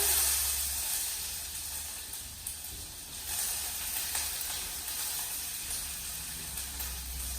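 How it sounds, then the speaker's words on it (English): Steady, soft sizzling of onion in a hot pan, a continuous crackly hiss with small pops, fairly close and unbroken, no voices. "I'm just going to add the onion. You're going to hear a bit of a sizzle."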